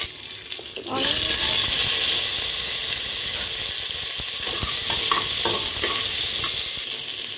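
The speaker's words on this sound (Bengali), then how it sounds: "আমি তেল গরম করে নিয়েছি, এখানে সর্ষে ফোড়ন দিলাম, কারি লিভসটা দিয়ে দিয়েছি" Mustard seeds and curry leaves hit hot oil in a cooker, a loud steady sizzle that bursts in after a quiet start and crackles on for several seconds with scattered pops.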